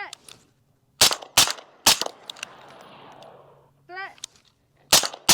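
Sharp, loud rifle shots from a Griffin Armament HRT 556 at a range, fired in paired and single cracks with gaps between, each ringing briefly; a short spoken word falls between shots.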